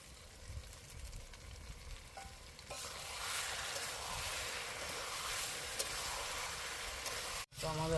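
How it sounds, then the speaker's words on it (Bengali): Potato, pointed gourd and spices fry in oil for a Bengali potol chingri dish, giving a continuous sizzling hiss that grows louder partway through, with stirring scrapes and a brief break near the end; a voice talks faintly beneath. "আমাদের আলু পটল আর মশলা ভালো করে ভাজা হয়ে গেছে"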